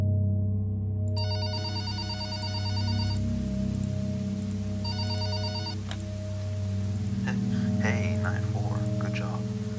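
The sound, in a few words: telephone ringing in Five Nights With Mac Tonight video game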